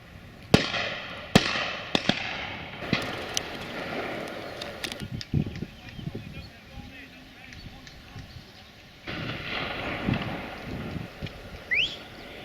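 Shotgun volley at a driven pheasant shoot by a wood's edge: several sharp, loud reports in quick succession at the start, then scattered distant shots, with people talking over the outdoor background.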